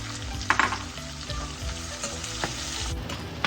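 Onions frying in a pan after garlic, for baingan bharta, give a steady close sizzle with a few sharper clicks and scrapes of stirring early on; no voices.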